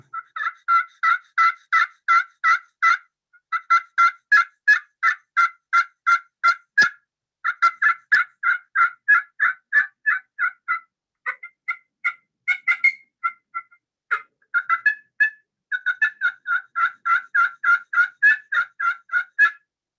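A turkey friction call played on its aluminum side makes long runs of rapid, sharp, high-pitched yelps and clucks, loud and close, in steady rhythmic sequences with short pauses, with no talking.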